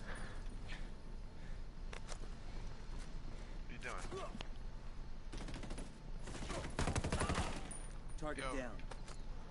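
Rapid bursts of automatic gunfire in the Ghost Recon Wildlands beta, a sustained volley in the middle with scattered shots around it, mixed with game sounds and players talking over it.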